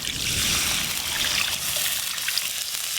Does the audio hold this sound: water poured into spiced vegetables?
yes